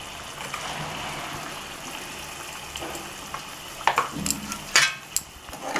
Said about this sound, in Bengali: ভালো করে নাড়িয়ে নিলাম আবার